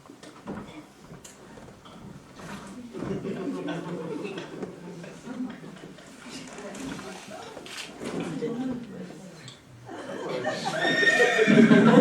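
A staged horse whinny plays as a sound effect in an amateur theatre comedy, rising in loud, shrill bursts near the end, while actors speak and move on stage beforehand.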